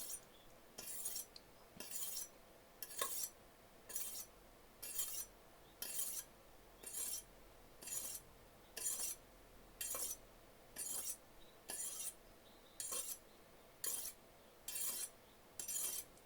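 A knife blade is drawn steadily across a Shapton Glass 1000 grit whetstone in even, evenly spaced strokes, roughly one per second, each a crisp gritty scrape, close and quiet with no talking.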